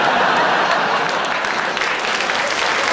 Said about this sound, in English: don't clap. It's too sad.